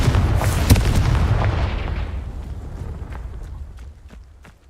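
A Confringo spell blast in the video game Hogwarts Legacy, a loud booming explosion that rumbles and slowly fades over several seconds, with faint footsteps after it.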